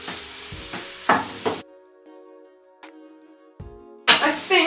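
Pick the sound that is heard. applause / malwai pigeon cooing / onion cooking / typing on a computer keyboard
onion cooking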